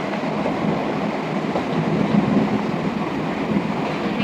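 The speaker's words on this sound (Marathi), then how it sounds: "कशी हलते ना कशी हलते ट्रेन डुम डुम" A continuous rumble of a train rolling along the rails, steady and close, like riding inside a carriage.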